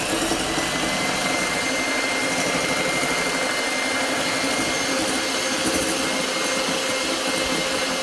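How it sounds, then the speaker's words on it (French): An electric hand mixer whipping eggs and sugar for whoopie cakes, a continuous high-pitched motor whine holding steady and fairly loud, with no speech. "nous allons prendre le batteur mélangeur pour les monter"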